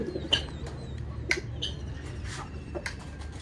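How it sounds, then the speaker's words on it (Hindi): Pigeons, newly bought racing birds kept indoors at night, cooing faintly with brief soft calls and a few chirps over low room hum, no talk. "ये कबूतर हैं"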